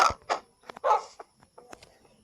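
A Minecraft dog barks several times in quick, uneven bursts, close and fairly loud, with short gaps and some softer yips between.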